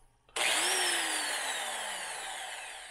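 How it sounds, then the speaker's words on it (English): A case trimmer cutter trims 5.7x28 brass pistol cases, giving a sudden loud, steady whirring grind that holds alone for nearly three seconds and fades slightly toward the end. "as you can see, the cutter turns nice and straight"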